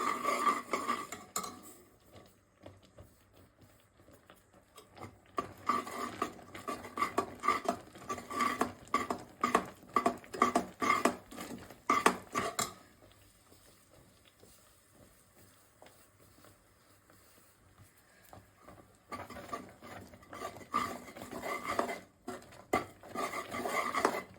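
A rice flour mixture for Kajjaya being stirred in a bowl, giving a steady run of close scraping and clinking bursts with a quiet pause in the middle, and no talk.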